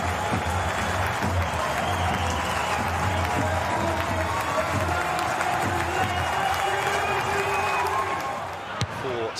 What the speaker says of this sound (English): Stand by for a standing ovation at Leichhardt. They're up in the crowd.